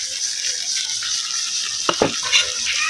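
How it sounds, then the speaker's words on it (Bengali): Fish frying in a pan gives a steady, close hiss of oil with brief stirring clatters near the end and no talk. "কি তোমার মাছ ভাজি কি হয়ে গেল?"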